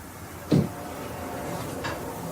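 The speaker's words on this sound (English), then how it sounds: "You open this door." A door opens with one short, dull knock-like thud, followed by a faint later creak or click over a steady background hiss.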